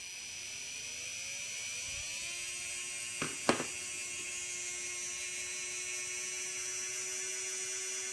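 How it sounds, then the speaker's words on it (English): A brushed electric motor spools up at different timing settings, its whine climbing in pitch early on and then holding a steady, fairly quiet high hum, with two brief sharp clicks partway through. "So I'll start at 0 and actually just spool her up and let you listen to it."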